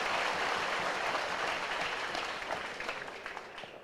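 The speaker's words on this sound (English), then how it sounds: "so let's give them a round of applause too" A crowd at an Army basic combat training graduation applauds the 282nd Army Band, with full, dense clapping that gradually thins and fades toward the end.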